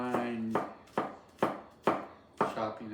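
Peeled ginger is finely chopped with a knife on a cutting board in five or six crisp, evenly spaced chops, close and distinct, each blow with a brief ringing tail.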